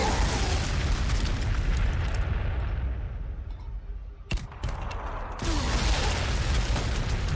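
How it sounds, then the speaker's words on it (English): Frag missiles exploding in the strategy video game Warhammer 40,000: Sanctus Reach, a dense roar of blasts and booms with a sharp sudden crack midway, then the rumbling barrage swelling again. "but we can hit them with the frag."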